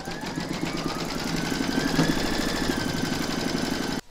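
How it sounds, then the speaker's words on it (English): An embroidery machine stitches round 5 on a hooped in-the-hoop stacked pumpkin, a steady fast mechanical whirring with rapid needle knocking, close and continuous before stopping abruptly. "Pop your hoop back into your machine and stitch round number 5 to secure it."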